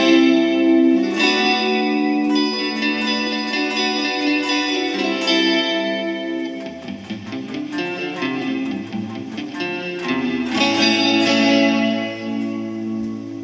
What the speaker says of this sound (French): Il devrait rester seulement que le reverb.